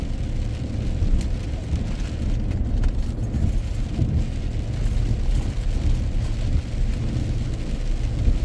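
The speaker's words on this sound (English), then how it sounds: "It just looks even amazing in the rain" Rain falls during a drive on the Blue Ridge Parkway, making a steady wash of hiss over a low road rumble inside the car, with no talking.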